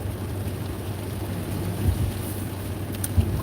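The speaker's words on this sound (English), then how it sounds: "It just started raining." Steady rain falls outdoors in a continuous hiss, broken by two deep, muffled thunder rumbles partway through and near the end, with no talk.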